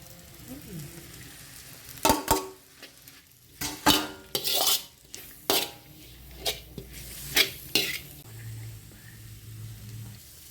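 Fried meat and fried eggs for kottu roti are stirred in a hot pan, with repeated sharp metallic scrapes and clanks of utensil on pan coming in irregular bursts over a low background sizzle.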